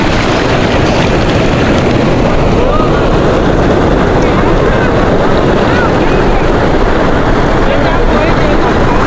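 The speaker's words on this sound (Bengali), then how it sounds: "আপনারা দেখতে পাচ্ছেন সাগরের গর্জন আর কীরকম ঢেউ আসতেছে" Sea waves at Inani Beach, Cox's Bazar, roaring continuously and loudly close by, with heavy wind rumble buffeting the microphone throughout and no break in the surf noise.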